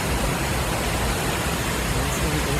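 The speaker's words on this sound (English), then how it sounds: "I thought yesterday had amazing waterfalls, but today's are a lot more impressive." Waterfall on Scotland's West Highland Way between Ardleish and Tyndrum, a steady, loud broadband roar of rushing water close by, continuous and unbroken throughout.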